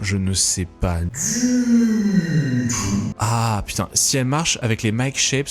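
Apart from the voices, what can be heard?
None of the usual background noises is heard.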